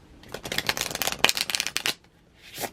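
Thick tarot cards being riffle shuffled, a rapid close-up flurry of cards flapping together for under two seconds, followed by a quieter brush as the halves are pushed back together.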